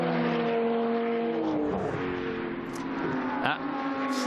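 GT2 race cars, including a Mercedes and a KTM, racing at the Dijon circuit, their engines droning steadily with rising and falling revs at a moderate distance, heard under commentary.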